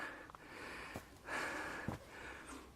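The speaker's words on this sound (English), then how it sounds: "Sorry about my heavy breathing." Heavy, labored breathing of a hiker climbing uphill toward ruins on Ithaca, Greece, with a few sharp sniffs and gasps between broad exhales, close and faint.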